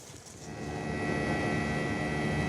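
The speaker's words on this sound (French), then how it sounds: "On est à bord de l'hélicoptère, là." A firefighters' rescue helicopter sits on the ground before takeoff near Chamonix. Its engine and rotor noise build into a loud, steady, broadband roar.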